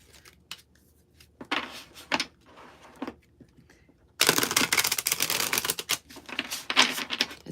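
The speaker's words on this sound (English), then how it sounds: "It's so nice to be able to shuffle a little better." Tarot cards are shuffled in quick riffling bursts, a few short rustles first, then a longer, louder stretch of rapid flicking.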